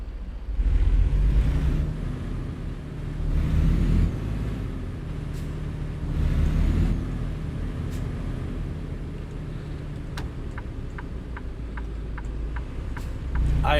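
Freightliner Cascadia truck engine in American Truck Simulator, a steady low rumble that swells and eases a few times, with a quick run of light ticks near the end.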